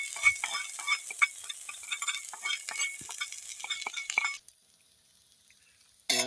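Onions frying in oil on a tawa, with bright crackling sizzle and stirring clinks for about four seconds, then near silence before a brief return of sound.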